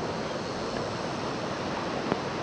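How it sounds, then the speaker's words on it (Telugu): A small stream forming the Chaparai waterfalls in the Ananthagiri hills, a steady broadband rush of flowing water that holds even throughout, with one brief louder splash near the end and no voices. "ఈ చిన్న వాగు చాపరాయి వాటర్ ఫాల్స్ని ఏర్పరుస్తుంది."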